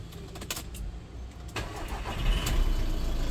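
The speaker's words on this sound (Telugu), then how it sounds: "సింగిల్ సెల్ఫ్ ఇంజన్ స్టార్ట్ అయింది" A 2015 Volkswagen Vento Highline diesel sedan with a five-speed manual starts on a single crank, a short starter whirr catching into a close, steady diesel idle that grows louder toward the end.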